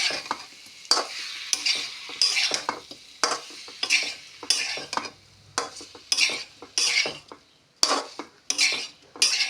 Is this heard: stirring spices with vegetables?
yes